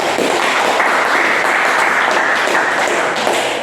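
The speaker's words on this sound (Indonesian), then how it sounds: "Tepuk tangan untuk kelompok 1." A classroom of students claps for the first group after its presentation, a dense, even wash of many hands close by, steady throughout with no talk over it.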